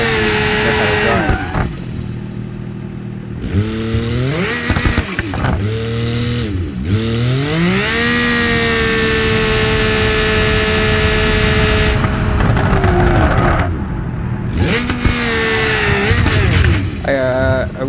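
A buggy's engine in BeamNG.drive revs and drones loudly throughout, rising and falling in pitch as it accelerates and shifts, with a brief drop near the middle before climbing again.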